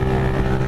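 A 160 cc motorcycle engine roars loud and close in a brief steady burst at night, a thick droning tone with no talk over it.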